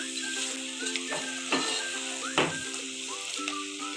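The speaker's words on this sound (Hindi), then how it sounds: "इसको मैं अच्छे से कर लूँगी मिक्स सब्जी में मसाले को" Lobia and carrot sabzi sizzles in a pan as masala and green coriander are mixed in, with steady frying hiss and a few distinct scraping stirs of a spoon.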